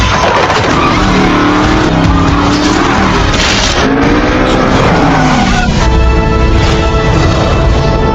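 Race car on a track in a film scene, a dense continuous roar of engine and tire squeal with rising and falling pitch sweeps, loud and close throughout over busy background noise.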